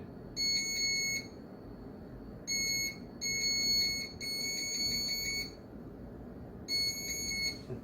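A hidden camera detector beeps as it nears an infrared camera. A bright electronic alarm sounds in four bursts of rapid beeps with short gaps between them, close and clear over a low background hiss.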